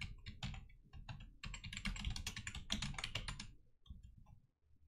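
Computer keyboard keys are typed into Windows search in quick irregular bursts with brief pauses, close and faint, with no speech.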